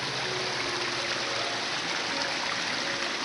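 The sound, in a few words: waterfall at Akame 48 Waterfalls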